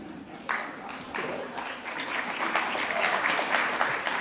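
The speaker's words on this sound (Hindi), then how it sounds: "ताली तो अब बजनी चाहिए" An audience at a keynote address by a law and justice minister breaks into applause, a dense clatter of clapping that starts sparse and swells into continuous loud applause.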